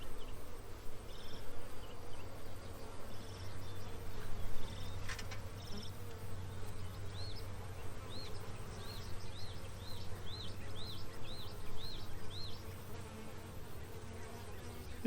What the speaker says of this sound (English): I got a little bit of movement from the bees.